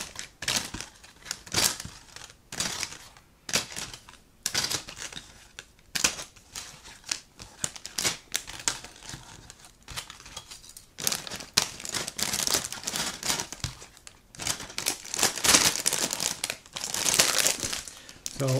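A plastic bag holding Panzer IV model kit parts crinkles and rustles in bursts as it is handled, with crisp crackling that comes and goes over about twenty seconds.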